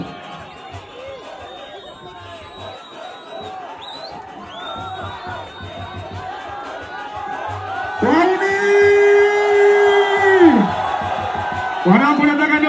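A concert crowd at a Wasafi Tour sound check in Kahama roars and whoops, starting as murmured chatter and swelling into loud sustained cheering with shouts, while voices call out over it.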